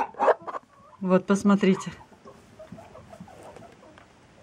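A hen that has just laid an egg clucks in a henhouse in winter, a few close, loud clucks at the start, with a person speaking briefly among them and faint farmyard noise behind.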